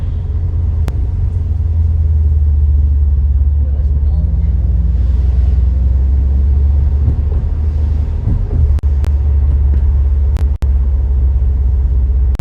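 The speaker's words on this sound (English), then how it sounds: "Taking a little ride in the convertible, the Monster" A convertible nicknamed the Monster cruises on a warm day near a beach, its deep engine rumble and wind roar loud and constant, with a couple of sharp knocks toward the end.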